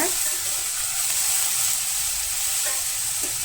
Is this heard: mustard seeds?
yes